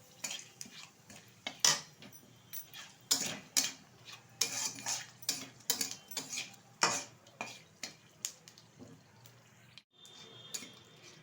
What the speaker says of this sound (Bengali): এটা ভালোভাবে ভেজে নেব।